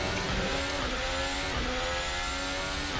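A RSS Formula Hybrid 2020 racing car in Assetto Corsa at Kyalami revs high and shifts down, a loud buzzing engine note stepping through several quick downshift blips.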